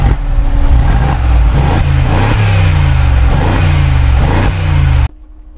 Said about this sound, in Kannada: So let's start the car and check the sound ನಾವು.